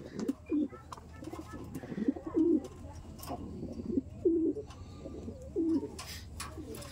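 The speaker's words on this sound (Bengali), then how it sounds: "এই সাইডে দেখুন, এই সাইডে প্রচুর পায়রা আছে।" Domestic pigeons in a large home loft coo repeatedly, low throaty calls arriving every second or so at close range, over rustling and a faint background hum.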